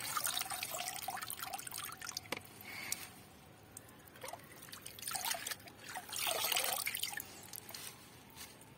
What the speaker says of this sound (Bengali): আমাদের তো আর পুকুর নাই, সেজন্য আমরা বালতি থেকে এইভাবে ধুতেছি।